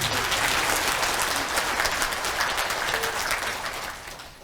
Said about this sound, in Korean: 그 민병덕 의원님을 위해서 여러분 박수 한번 쳐주세요